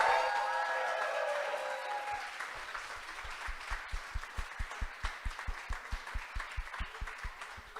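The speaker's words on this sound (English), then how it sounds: "our teachers also deserve a huge round of applause." Sustained audience clapping for the teachers at a Le Wagon coding bootcamp demo day in Montreal, a broad wash of applause with a steady thumping beat emerging underneath after a couple of seconds.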